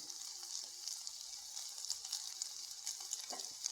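Ginger and curry leaves sizzle in hot oil in a pan for Kerala-style onion rice, a steady close crackle with small pops and a few stirring scrapes.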